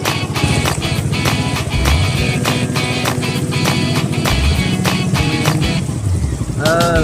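A motor boat engine drones loud and close as the boat heads toward a beach on Lake Toba, with rhythmic thumping of the hull on the water over the constant motor.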